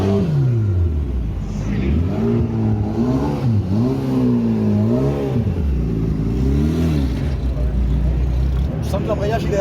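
An Alpine GT4 race car engine at Circuit Paul Ricard rises and falls in pitch, revving hard through gear changes, heard loud from inside the cabin.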